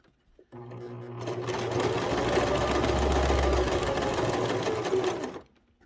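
Sewing machine stitching a curtain quilt: a close, loud, steady mechanical whir that starts abruptly, runs for about five seconds, and stops.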